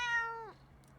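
A cat lets out a single close, clear meow with a falling pitch that fades out after about half a second, leaving a quiet room.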